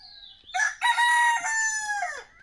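Several roosters crow close by where a flock of chickens perches in a chikoo tree on a farm, one long cock-a-doodle-doo call rising loud and fading out, with no talk.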